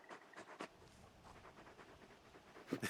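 A large dog pants softly in Final Fantasy XVI, with quick breathy puffs repeating at a low level and a brief louder burst at the end.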